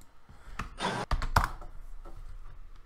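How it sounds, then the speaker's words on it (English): Emphatic typing on a computer keyboard: a quick cluster of sharp, loud key strikes and thunks at close range, followed by lighter scattered taps, with no speech. "can hear all that emphatic typing"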